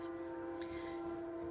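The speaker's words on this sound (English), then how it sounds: "Sorry about the train." Passing train sounding a long, steady horn tone that holds unbroken over a low rumble, moderately loud and alone without talk.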